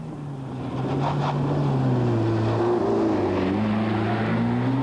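An old two-wheel-drive Mercedes 190 rally car drives a 1993 Hunsrück Rally stage in Germany, its engine making a loud, sustained drone that holds and swells slightly as it passes close by.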